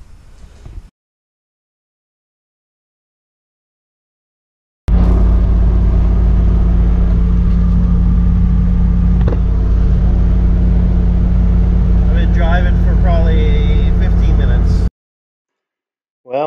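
A Datsun 1200 ute with an overheating problem drives on a test run, its engine a steady, loud low rumble that holds for about ten seconds between stretches of silence.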